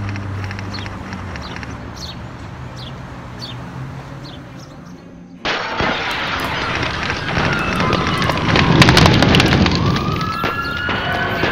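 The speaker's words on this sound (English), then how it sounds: "there is a structure on fire" A house burning in a valley neighborhood, a loud roaring fire with dense crackling and popping, rising abruptly midway and staying intense with bursts of snapping.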